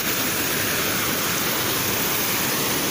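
Loud, constant rush of water pouring and splashing into a rock pool, an unbroken roar close by.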